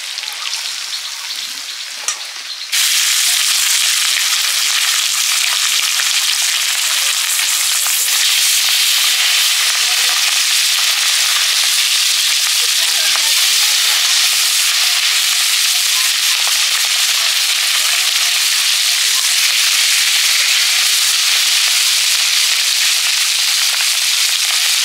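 Meat drops into hot oil in a pan and sizzles loudly and continuously, a dense bright crackle that starts abruptly and holds steady throughout.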